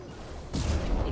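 A single gunshot in the video game Mass Effect 2 cracks out as a sudden loud burst about halfway through and carries a sustained rumbling tail after a quieter lead-in.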